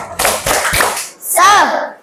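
Children chant together in a quick rhythmic pattern, their voices mixed with hand claps, bright and close.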